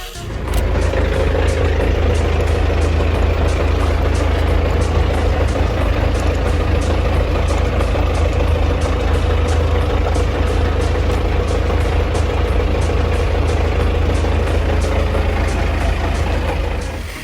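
A tractor engine idles loudly and steadily while hooked up to a row-crop cultivator, a constant low diesel rumble with faint rhythmic ticking, running without a break throughout.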